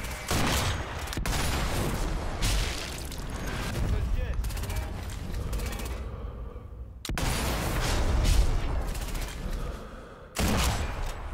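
Gunfire in the video game Sniper Elite V2 Remastered on Xbox One X: loud, dense bursts of rifle and machine-gun fire crackle continuously, with a couple of short gaps.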